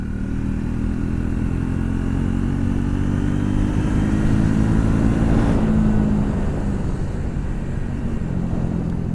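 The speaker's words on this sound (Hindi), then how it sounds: "इंजन अब और ज़्यादा रिफाइंड लग रहा है मुझे इस बाइक का, और ज़्यादा स्मूथ लग रहा है" Riding a Triumph Speed 400 MY25, the motorcycle's 40 PS engine hums continuously up close, with steady engine drone and wind rush building slightly midway, no voices.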